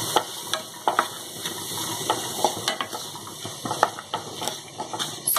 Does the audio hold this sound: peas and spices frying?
yes